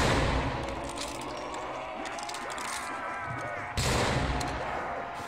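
Tank gun firing during a static test in a game, heavy booming shots with sharp onsets, one big blast near the end, over a dense rumbling background.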